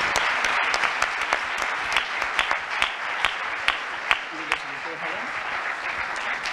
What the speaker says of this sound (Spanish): un fuerte aplauso para todos nuestros sponsors y colaboradores.